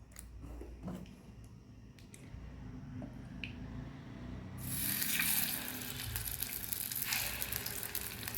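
Millet kuzhi paniyaram batter pours into a hot oiled paniyaram pan and breaks into a loud, steady sizzle that swells and keeps hissing, with a few faint clicks before it.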